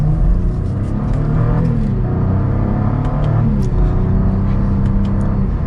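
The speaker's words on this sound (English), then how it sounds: "not even quarter throttle there, and we are up to speed." A 2022 Cadillac CT4-V Blackwing sedan with a 6-speed manual accelerating on the road, a loud, steady engine rumble with rising whir and a shift in pitch partway through, heard from inside the car with no talking.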